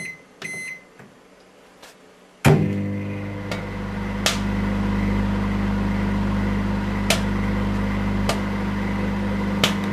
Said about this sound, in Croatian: Stavite vrećicu u mikrovalnu